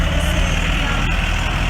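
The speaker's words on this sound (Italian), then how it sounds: "A seguire azienda agricola Eurogreen, sempre di Arruno, con un trattore Same Explorer" A Same Explorer 80 tractor engine rumbles steadily and loudly at close range as it rolls in at an agricultural vehicle blessing fair, with a continuous low diesel drone and no talk.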